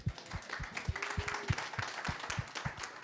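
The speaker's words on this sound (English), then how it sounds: "round of applause" A small audience at a talk on digital patient care claps faintly, producing sparse, evenly spaced claps heard at a distance for about three seconds.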